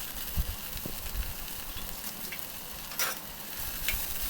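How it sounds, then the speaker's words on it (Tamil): Onion, tomato and curry leaves sauté in hot oil for chicken kothu parotta, a faint, steady sizzle and crackle with small pops and a brief stir partway through. "சேர்த்துட்டு நல்லா வதக்கிக்கலாம்"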